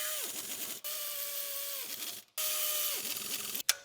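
A ratchet tightens the distributor housing on a Lexus LS400 during timing belt work, giving long whirring clicking runs with short pauses between them, close and loud.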